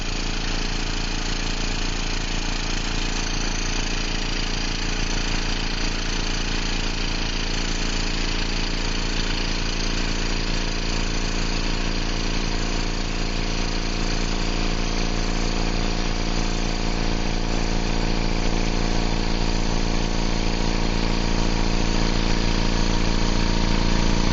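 Vacuum pump running during wood stabilizing, a loud, steady motor drone with a constant buzzing hum that holds unchanged throughout, with no talking.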